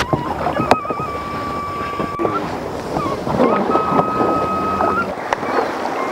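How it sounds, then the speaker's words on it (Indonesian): Fast-flowing river rapids rush steadily under a raft, a continuous loud watery roar with wind buffeting the microphone and a few brief whistling tones over it. "Arus sungai ini cukup deras, tetapi tetap memuji adrenalin saya pemirsa."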